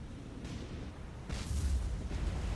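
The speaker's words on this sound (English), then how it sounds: "we just took another big hit. Or maybe that was a secondary explosion" A warship in the War On The Sea naval combat game takes a heavy hit or suffers a secondary explosion, a deep rumbling boom that swells over steady background noise and keeps roaring.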